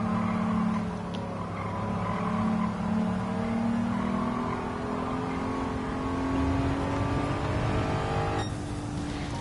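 A race car engine in Gran Turismo 7 drones and revs from an in-car view, rising and falling steadily as the throttle is feathered, loud and continuous throughout with no talk.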